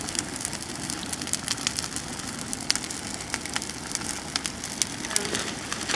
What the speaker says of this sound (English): considering that the fire is 3 feet tall